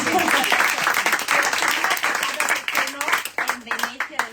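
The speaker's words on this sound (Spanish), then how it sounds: "Un aplauso a Karina también." Audience applause at a book presentation in a bookshop, a steady clatter of many hands clapping that thins into sparser individual claps toward the end, with a voice speaking over it.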